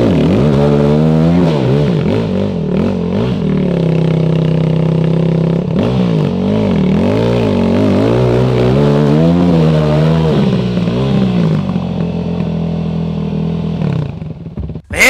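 An enduro motorcycle engine revs hard over and over, its pitch swinging up and down in loud rising and falling sweeps for about fourteen seconds before cutting off abruptly near the end.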